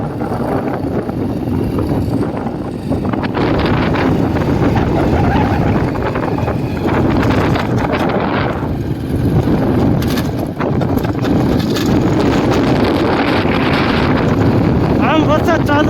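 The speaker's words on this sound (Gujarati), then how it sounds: "આમ વરસાદ ચાલુ છે મિત્રો." Heavy rain arrives with a strong windstorm in a Gujarat village, making a loud, continuous roar. Wind buffets the microphone throughout, with gusty swells rising and falling.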